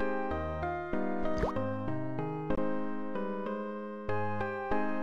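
Water drips in the Simon the Sorcerer 2 video game, with one sharp, plopping drip sound over continuous looping game music.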